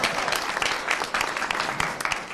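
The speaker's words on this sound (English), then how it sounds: "Hey, I think Ed deserves a nice round of applause." A short round of applause at a state board of education meeting, with a small group clapping steadily at moderate volume, the claps dense and overlapping without pause.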